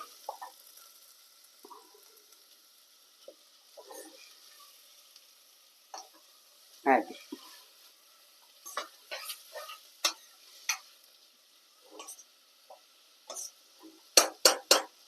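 Chopped onions soften in a pan for a raw papaya curry, giving a faint, quiet sizzle broken by scattered sharp clicks and taps from stirring, with bright ticks clustering near the end.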